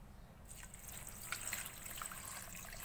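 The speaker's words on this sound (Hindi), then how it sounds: "और पानी ऐड करेंगे इसमें" Water pours steadily into a cooking pot holding ginger, bay leaf and onion for beef pulao, a soft continuous trickling stream that starts after a brief pause and stays fairly quiet.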